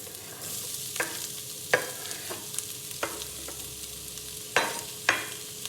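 Garlic, ginger and onion frying in a pan for a steak rice dish with black bean sauce: a steady close sizzle punctuated by about half a dozen sharp utensil clicks against the pan.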